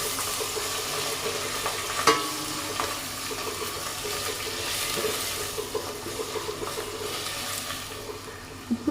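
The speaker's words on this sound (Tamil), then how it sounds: "அது கொஞ்சம் லைட்டாக ப்ரௌன் ஆன உடனே பச்சை மிளகாய், வெங்காயம் போட்டுக்காங்க" Green chillies and onions fry in a pan, a close, continuous sizzle with repeated stirring scrapes and a sharp clink near the start, no voices over it.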